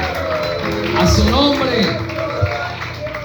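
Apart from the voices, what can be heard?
congregation applause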